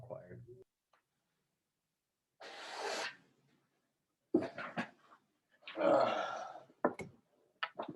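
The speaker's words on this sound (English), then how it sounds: "I am going to bring up the puppy in a moment." A puppy makes short, rough growling and grumbling bursts in separate spurts, close and fairly loud, with silent gaps between them.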